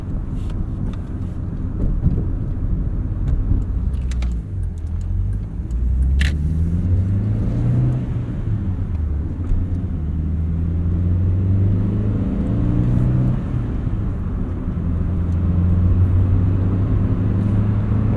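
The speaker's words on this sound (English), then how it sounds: "nice and responsive engine" Steady engine drone from a 1988 Honda Accord LXi with a 5-speed manual while driving, a low continuous rumble with gentle rises and falls as it pulls along, plus faint cabin and wind noise throughout.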